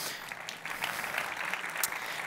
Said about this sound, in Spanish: un aplauso muy fuerte para el representante de Matthew McConaughey, por favor